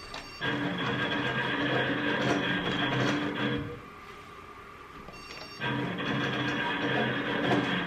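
A Melco embroidery machine with a Fast Clamp Pro runs a trace over a mesh cap, a loud continuous mechanical whir that cuts out for about two seconds, then starts again.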